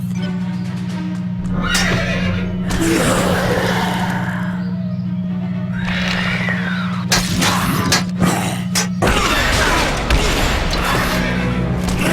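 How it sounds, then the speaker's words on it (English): Knights' horses whinny repeatedly in the Ben 10 Alien Force video game, loud neighs over a constant low hum, with crashes and clattering impacts breaking in toward the end. "As long as they're on those horses, these knights are fast and dangerous."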